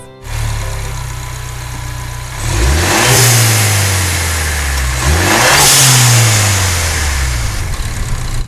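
A Ford Bronco engine fitted with a Turbosmart blow-off valve idles loudly up close, then revs twice with rising and falling pitch, each rev ending in a turbo whoosh.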